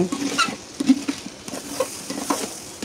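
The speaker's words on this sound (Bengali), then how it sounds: "এখন ভালোভাবে নাড়াচাড়া করে কষিয়ে নেওয়া হচ্ছে" Food with salt being stirred and sautéed in a pan over a clay stove: close, irregular scraping and clattering strokes over a light, steady sizzle, with no talk.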